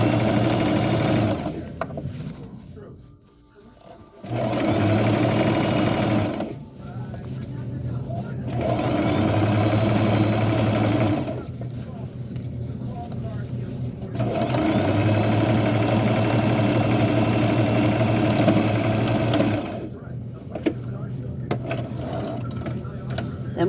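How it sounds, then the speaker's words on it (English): A sewing machine runs in long steady mechanical whirring stretches while hemming the bottom of a burial gown, stopping briefly between runs, with a voice talking over parts of it. "we are going to hem the bottom of it"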